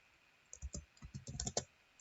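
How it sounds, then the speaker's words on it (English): Quick, light clicking of computer keys, typed in short irregular bursts close by and fairly quiet, with a brief pause partway through. "let's type IP version 6"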